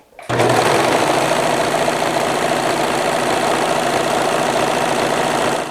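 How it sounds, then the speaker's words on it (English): A serger runs continuously while sewing a lettuce hem on stretched fabric, a loud, fast, even mechanical whir with rapid stitching rhythm starting abruptly and holding steady throughout, no voices. "stretch it as you continue serging"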